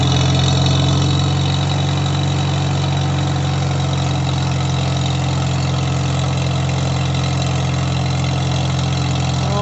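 An IH 120 mower engine runs steadily throughout, a loud, close, continuous idle with a deep droning hum and no talk.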